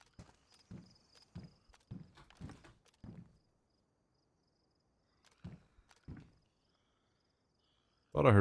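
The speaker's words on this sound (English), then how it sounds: "Thought I heard footsteps for a second." Footsteps in a video game thud softly and intermittently in short clusters against near silence, with faint insect chirping behind, then a sudden loud burst at the very end.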